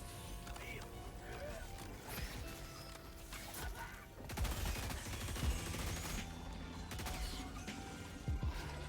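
STA Assault rifle fire in the Helldivers 2 video game: dense, rapid gunfire bursts and mechanical clatter over a busy battle bed, with a voice talking alongside.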